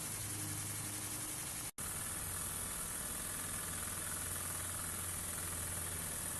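A Microcosm M65 mini V2 model steam engine runs steadily with a constant, even mechanical hum and hiss, briefly cutting out for a moment before carrying on unchanged.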